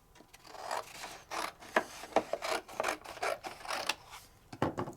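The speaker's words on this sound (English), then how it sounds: "Anytime you're rubbing ink over the top of something with a full-size ink pad" A full-size ink pad is rubbed over embossed paper, giving close, irregular scratchy swipes in quick bursts with short gaps between them.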